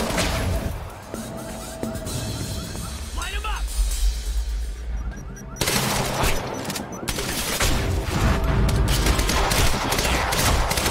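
Gunfire from a sniper in the video game Quantum Break, with sharp cracks and bursts of shots amid game noise and crashes while a player talks over it.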